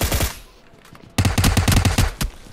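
Rapid automatic gunfire in PUBG Mobile comes as a loud, tightly spaced burst of about a dozen shots, following a quieter stretch of more distant shooting and a short lull.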